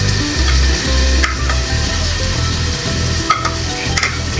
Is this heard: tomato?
yes